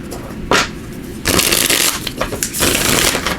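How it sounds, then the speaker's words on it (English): A tarot deck is shuffled by hand in three quick, crisp riffling bursts with short pauses between them, close and fairly loud. "So let me just give these a quick shuffle."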